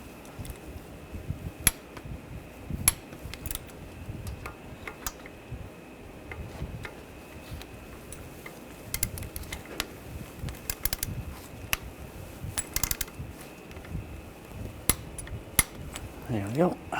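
Torque wrench clicks and metallic ticks while the turbocharger bolts on a 2009-2017 Volkswagen Tiguan are tightened, sharp irregular taps over a quiet workshop background.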